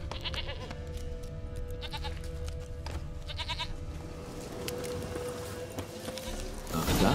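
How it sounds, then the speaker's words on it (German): Goat bleats in The Witcher 3 video game, a few short nasal calls rising over a steady ambient game soundscape, with a louder rustle at the end. "Komm her, Ziege."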